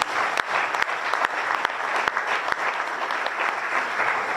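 A crowd at a gathering applauds steadily for Christian, a dense, even clapping that runs throughout with a few sharper individual claps standing out.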